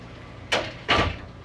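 RV sliding shower doors roll along their tracks in two quick scraping rushes, close and fairly loud, with quiet room tone before and between them.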